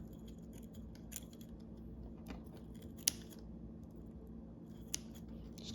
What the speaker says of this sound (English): Maybe I'll just use these scissors.